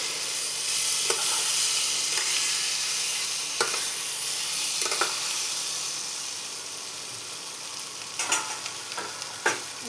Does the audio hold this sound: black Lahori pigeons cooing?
no